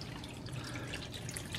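Water drains steadily from a portable washing machine as its drain hose is pulled out, a continuous close splashing and trickling rush with no break across the moment.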